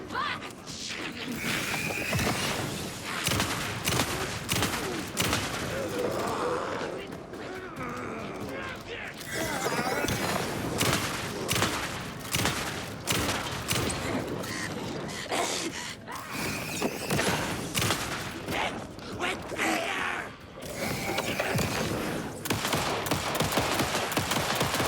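Dense, continuous rapid shotgun fire in the video game Alan Wake 2 crackles for the whole stretch, loud and chaotic, with occasional voices and gasps buried beneath the shooting.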